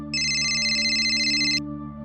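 An electronic phone ringtone sounds as one sustained, steady tone burst of about a second and a half over a low background hum.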